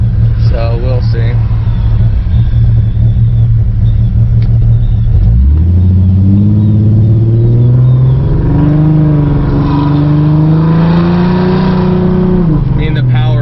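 Ford Mustang with a 4.0 V6 engine, idle lowered to 725, drives on the road after a cold start: a steady low idle rumble, then the revs climb and hold as it accelerates, with a voice talking over it.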